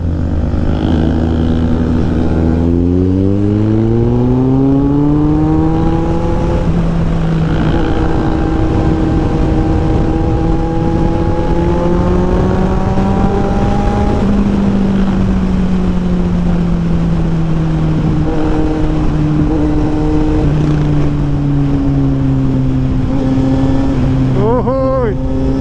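A Kawasaki Z900SE motorcycle on a ride through Tigaon, Camarines Sur, its engine droning loudly and steadily, climbing and falling in pitch as it accelerates and eases off, with wind rush throughout.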